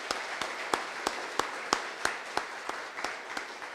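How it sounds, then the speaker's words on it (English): Sparse, evenly spaced claps from a few people at an awards luncheon, soft and somewhat distant, repeating in a loose rhythm without talk. "Just everybody give them a round of applause again."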